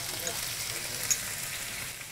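Garlic and ginger paste frying in a pan, producing a brief, steady hissing sizzle with a faint tick or two, moderately quiet and unbroken.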